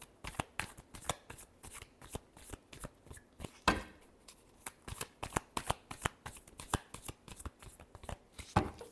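Tarot cards are shuffled by hand in quick, soft riffling bursts and light slaps, repeating irregularly at close range.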